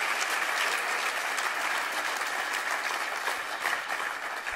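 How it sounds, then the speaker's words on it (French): Steady, full audience applause for the technical teams at a talk, a dense even wash of many hands clapping throughout with no break and no voices on top. "On va les applaudir aussi."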